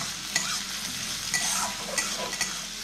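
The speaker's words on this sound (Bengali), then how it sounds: "1 মিনিট মতো ভালো মতো ভেজে নেব" Chopped onions and green chillies fry in a pan with a continuous close sizzle, and a spatula stirs and scrapes in a few distinct strokes. No voices are heard.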